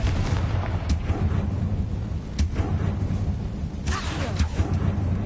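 Confringo blasting-curse explosions in the Hogwarts Legacy video game, a few sharp booming bursts rising over a dense, rumbling background of game noise.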